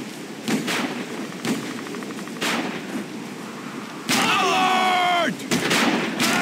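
Game gunshots from the shooter XIII ring out as several sharp cracks spaced through the clip, with a short voice alert and rising electronic tones in between.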